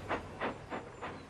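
Toby the steam tram chuffs steadily, four soft, breathy puffs of steam in an even rhythm, moderately loud and close.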